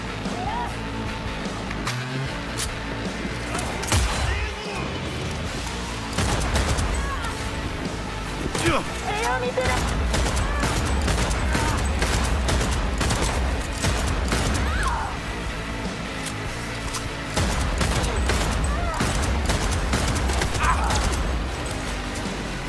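Bursts of gunfire in Cyberpunk 2077 crack out repeatedly through a long stretch of game combat, loud sharp shots and clattering impacts layered over a constant dense game soundscape while a player talks.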